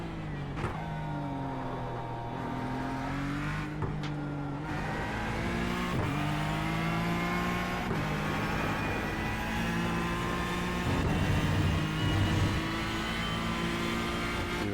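A racing car engine in iRacing at Silverstone whines continuously, its pitch climbing through the revs and dropping at each gear shift, loud and synthetic-sounding with no speech.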